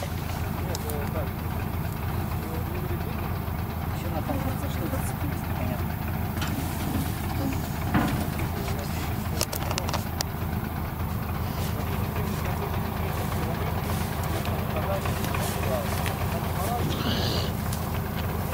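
A vehicle engine idles while tree branches are hauled off for a bonfire, holding a constant low rumbling drone through the whole stretch with faint voices and occasional knocks on top.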